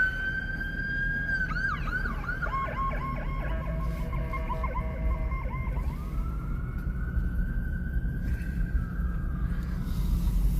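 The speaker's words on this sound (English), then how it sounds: "There's the ambulance." An ambulance siren wails and yelps in the distance on a Saturday night in Cheyenne, Wyoming, rising and falling steadily over a constant low rumble of traffic.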